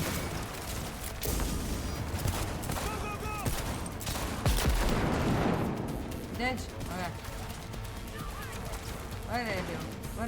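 Rapid bursts of gunfire from a stealth shooter video game crackle in dense, overlapping volleys with a few heavier booms, running throughout under a player's shouting voice.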